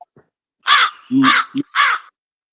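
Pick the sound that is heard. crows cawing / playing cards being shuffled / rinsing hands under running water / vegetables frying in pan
crows cawing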